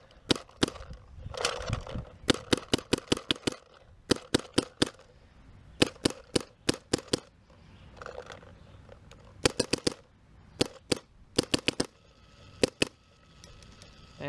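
Paintball marker fired on semi-auto and fed by an HK TFX loader, sharp loud cracks in rapid bursts of several shots with short pauses between strings, no talking.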